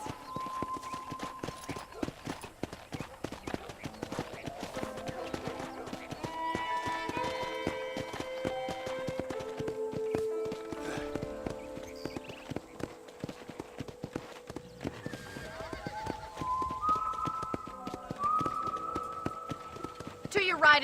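Horse hooves clip-clop at a brisk riding pace in Red Dead Redemption 2, a steady rhythmic patter running under game music and spoken dialogue.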